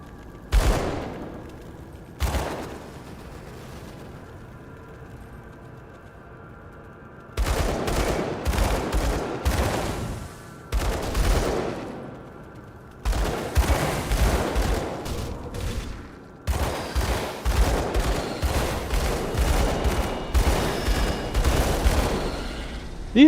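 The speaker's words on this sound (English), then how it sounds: "I was shooting the stairs." Dual pistols fire in the video game Grim Dawn, loud sharp shots in rapid bursts and volleys broken by short pauses, some single cracks and some fast strings of overlapping reports.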